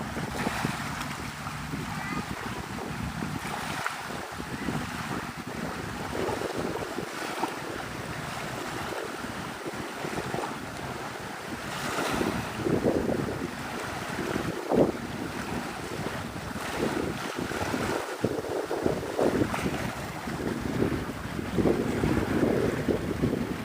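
Wind buffets the microphone with gusty rumbles while water laps and washes along the beach at Santa Rosa Sound in Navarre, Florida, a steady outdoor roar over the whole stretch with occasional faint voices.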